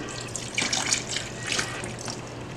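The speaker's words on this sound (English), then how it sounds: "dump water all over this thing" Water, diluted with some fertilizer, is dumped over a tree-fern panel, splashing and trickling steadily for a couple of seconds with a few louder gushes, close up and with no voices.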